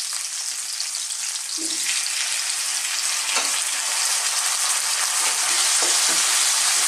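Tomatoes hit hot oil in a pan for Filipino ginisang upo with sardines, making a loud, continuous sizzle broken by a few soft stirring scrapes.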